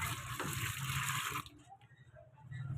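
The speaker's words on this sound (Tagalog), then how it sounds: "Dadagdag tayo ng tubig." Water pours steadily from a tap into a laundry basin or tub for hand washing in Tondo, a dense splashing flow for about a second and a half, then cutting off to quiet drips and faint room sounds.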